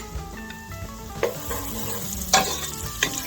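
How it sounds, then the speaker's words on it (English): Garlic is stirred in a pot while cooking for loaded potato soup. A loud spoon scrapes and knocks through a continuous sizzle, with a few sharper strokes near the end. "It's ready to be stirred."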